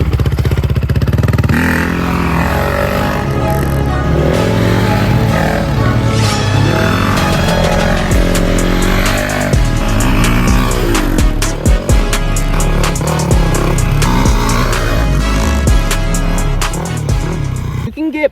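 A dirt bike fitted with homemade tires rides loudly and close, its engine droning and revving continuously with rising and falling pitch, clattering over rough ground.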